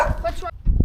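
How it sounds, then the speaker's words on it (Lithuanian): A small dog in a Lithuanian forest gives a couple of quick, sharp barks and yips close by, mixed with a person talking. "pažįstamas šuniukas"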